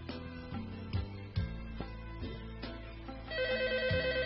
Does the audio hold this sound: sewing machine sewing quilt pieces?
no